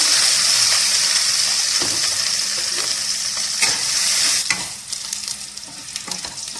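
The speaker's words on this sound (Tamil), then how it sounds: "அடுத்தது பூண்டு நறுக்கி வச்சுருக்கேன் இல்லைங்களா அதை நல்லா செவக்க வறுக்கணும்" Oil sizzling loudly in a pan as chopped garlic fries for rasam, with a few scraping stirs; the hiss fades toward the end.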